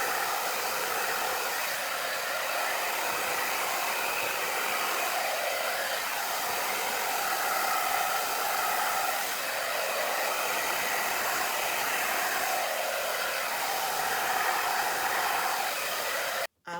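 A blow dryer runs steadily over wet paint on a canvas, a close, even hissing whoosh held for the whole stretch before switching off abruptly at the end.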